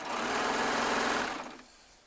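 A Baby Lock Triumph serger stitching fabric in a quilting session, a fast, dense mechanical whir running loud and steady for over a second before winding down and stopping.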